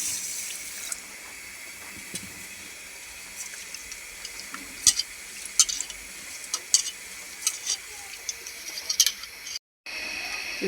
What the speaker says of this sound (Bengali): এই পোলাও চালটা আমি খিচুড়ির মধ্যে দিয়ে দেবো